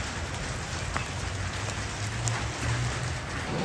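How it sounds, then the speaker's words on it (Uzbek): Light rain in Kenya patters steadily on nearby surfaces, a close, even hiss with scattered sharper drop hits. "Kam-kam yomg'ir yog'yapti."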